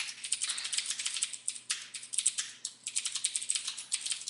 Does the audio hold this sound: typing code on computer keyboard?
yes